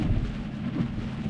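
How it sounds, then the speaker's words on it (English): Heavy rain on a car during a Tesla commute toward downtown Binghamton, NY, a dense steady hiss and low rumble with no voices. "because of all this rain"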